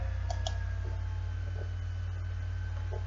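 Two faint, quick computer mouse clicks come early, then a few softer ticks over a steady electrical hum during embroidery design software work.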